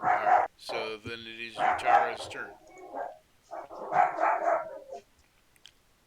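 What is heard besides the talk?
dog barking over an online call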